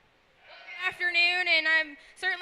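A sheep bleats in one long, wavering cry at a county fair sheep show, followed by the start of a second bleat. The calls are clear and fairly close, with quiet surroundings before them.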